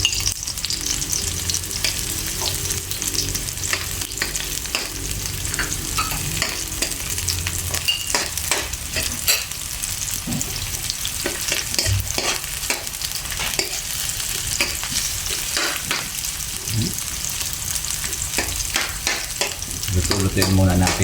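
Garlic sautés in a hot pan for eel adobo with coconut milk and string beans, a steady close sizzle broken by frequent scraping stirs and clinks of the utensil, with no voices.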